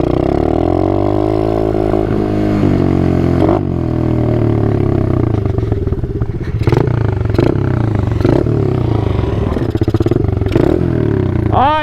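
A Yamaha Raptor 90 quad and an Apollo 125 dirt bike race side by side, their small engines droning loud and steady with rising and falling revs, clattering shifts and brief surges, no talking over it.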